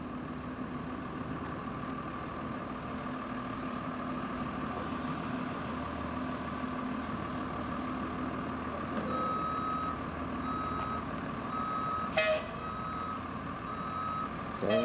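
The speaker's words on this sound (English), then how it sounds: "He's going to back the bus up in this lane approximately a foot off of the yellow line" A bus idles with a low, steady engine rumble while its backup alarm starts beeping at an even pace partway through, during a reversing maneuver at a Maryland MVA driving test.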